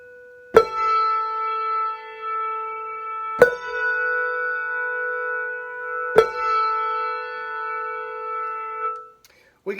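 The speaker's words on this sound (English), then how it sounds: "We can do a martellato lift where we ring the bell on the table," Three handbell martellato lifts, the bell struck on a table then lifted, each followed by a long, full ringing tone that sustains and overlaps before the next, ending with a soft clunk.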